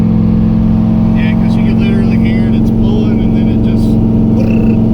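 A turbo LS-swapped Miata's engine runs rough under acceleration: a loud, close, steady droning rumble broken by scattered crackling bursts, with voices faintly underneath.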